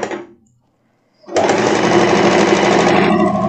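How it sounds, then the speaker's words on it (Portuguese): After a brief soft sound and a pause, a sewing machine starts up and runs steadily and loudly for about two seconds, stitching a sleeve closed on a plaid blouse, then slows near the end. "Agora eu costuro pra fechar a minha manga."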